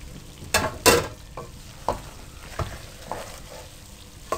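A spoon stirs dum aloo potato fry in a pan, giving a few soft scraping strokes and light clinks at an irregular pace over a faint background sizzle.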